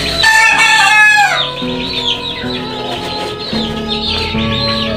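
A rooster crows loudly up close, followed by chickens clucking and chattering in a coop.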